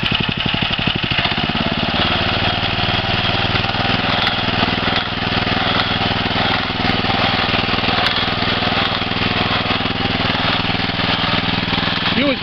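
Small engine on a homemade deep well drilling rig running hard at high throttle, a loud constant buzzing drone that settles after a rattling start, with voices faintly beneath.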